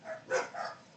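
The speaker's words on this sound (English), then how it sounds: "My dog Sammy, she was wrapped up in a blanket, looking like a burrito, barking." Sammy, a pet dog wrapped in a blanket, gives two or three short, muffled barks close by. The barks are fairly faint and come in a quick, uneven rhythm.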